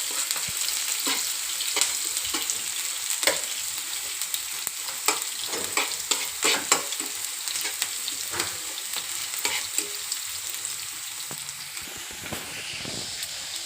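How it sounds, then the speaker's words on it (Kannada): Onions frying in hot oil in a pan, a steady bright sizzle with scattered crackles and stirring scrapes throughout, close and continuous with no voices. "ಈರುಳ್ಳಿ ಲೈಟಾಗಿ ಫ್ರೈ ಮಾಡ್ಕೋಬೇಕು."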